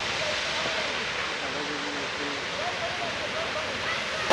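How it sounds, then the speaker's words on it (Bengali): Beneshol waterfall near Ghatshila gives a steady, dense rush of falling water that fills the scene evenly from start to finish, with faint voices barely showing through. "এখানে একটা ঝর্ণাও আছে, এই ঝর্ণাটা এবারে আমরা দেখে নেব। এটাকে বেনেশোল ঝর্ণা বলা হয়।"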